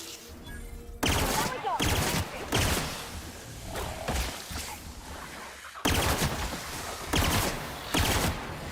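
Gunfire from The Outer Worlds video game: repeated loud, punchy bursts of shots with short gaps between them, while a voice speaks briefly over the shooting.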